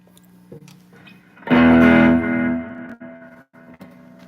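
Electric guitar with reverb set to 4 and delay, rock and blues jam, a sustained chord swelling loud then ringing out into echoing decay, with a few quieter plucked notes before and after.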